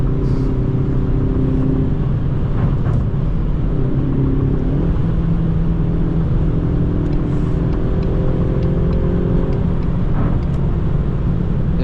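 A 2018 Ford Mustang EcoBoost with the Black Accent Package driving in traffic, with a steady, loud engine and road rumble from inside the car and mild revving swells throughout.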